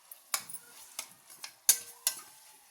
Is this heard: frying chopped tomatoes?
yes